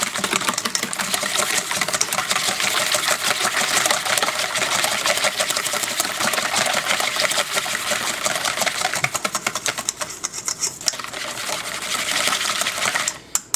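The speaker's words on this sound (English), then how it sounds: "Just keep whisking over." Eggs whisked with a wire whisk in a bowl with ground black pepper for spaghetti carbonara, a fast, steady metallic clicking and rattling close up that continues almost without pause.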